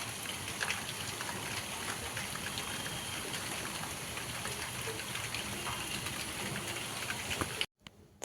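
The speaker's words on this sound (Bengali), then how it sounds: "এই যে দেখো বৃষ্টি হচ্ছে আমাদের এদিকে খুব জোরে জোরে হচ্ছে না ঝিরিঝিরি হচ্ছে" Steady light drizzle falling continuously, a soft even patter of fine rain on surfaces at moderate distance, with no talk, ending in a brief break near the close.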